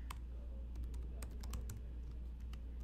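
Keys tapped on a computer keyboard while entering a new user's email, a quick run of close, crisp clicks over a low steady hum, with no talk.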